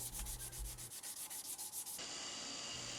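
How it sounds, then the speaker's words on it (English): Sandpaper rubbed by hand over a knife handle made from a file, rounding it over: rapid rhythmic back-and-forth scratching strokes up close, then a steadier continuous rasp. "Now I'll finish out with some hand sanding, making sure that everything's rounded over and worked in evenly"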